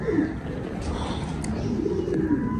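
A pigeon coos in low, repeated throaty phrases close to the microphone, with a soft background murmur throughout.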